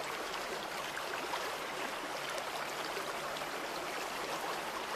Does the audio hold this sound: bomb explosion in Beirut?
no